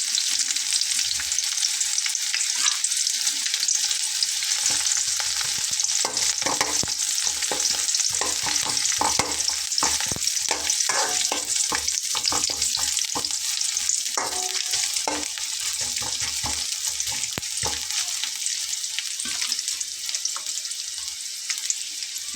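A large chopped onion frying in a pan of hot oil with chilies, giving a loud, continuous close-up sizzle with faint scraping stirs throughout.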